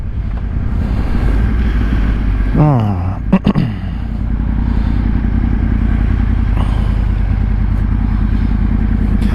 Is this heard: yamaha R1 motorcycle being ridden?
yes